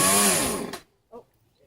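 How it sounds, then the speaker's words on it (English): A chainsaw runs loud and close, its buzzing roar suddenly cutting out. A brief faint sound follows in near silence. "high res man can't turn off chainsaw"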